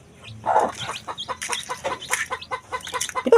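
Chickens cluck in a yard, a close run of short choppy clucks and squawks with continuous rhythm, loud over a faint background.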